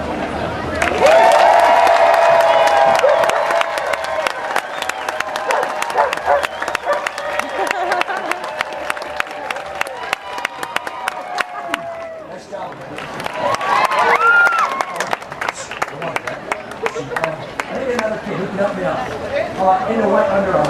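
An outdoor crowd at a Renaissance festival juggling and chainsaw show claps and cheers, swelling loudly at the start and again later, with a performer talking through the applause.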